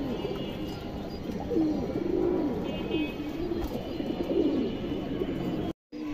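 A pair of Bagha pigeons coo in low, repeated throaty bursts, fairly close, over a steady background hiss, with a short dropout near the end.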